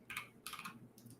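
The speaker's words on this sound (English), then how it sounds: "Let me go ahead and type this out." Typing on a computer keyboard, quiet and close, with two or three short bursts of rapid key clicks and brief pauses between them.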